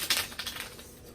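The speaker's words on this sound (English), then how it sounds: "I'm gonna shuffle one more time." A deck of tarot cards being shuffled by hand gives a quick, quiet run of papery riffling clicks that fades out within about a second.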